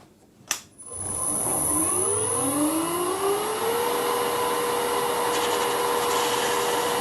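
A vintage Karger lathe turning a pointed workpiece: a small click, then the motor spins up with a rising whine that settles into a steady, close hum and whir with no voices.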